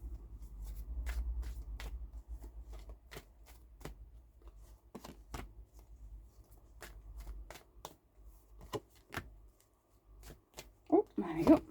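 Tarot cards being shuffled by hand for a star-sign reading, a run of sharp, soft riffling snaps and taps spaced irregularly, fairly quiet and close, with low rumble beneath and a brief voice near the end.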